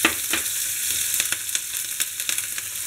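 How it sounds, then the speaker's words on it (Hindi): Mustard seeds, asafoetida, ginger and green chili fry in hot oil for veg momo filling, giving a steady close sizzle with scattered crackling pops and spits throughout, no voices. "ये राई डालेंगे, हींग डालेंगे और ये अदरक और हरी मिर्च को भी"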